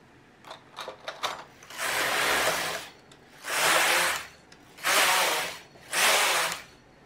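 A knitting machine knits 1x1 ribbing in the round for a pinafore dress: a few light mechanical clicks, then four sweeping rasps of the carriage across the needle bed, each lasting about a second, close and clear with no talking.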